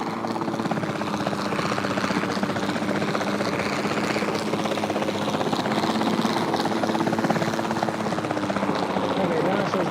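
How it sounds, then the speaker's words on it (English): A capture team helicopter in the video game Jurassic World Evolution 2 drones with a continuous rotor chop and engine hum, loud and steady throughout, while a voice talks over it. "Then the sensible thing is to take a capture team helicopter."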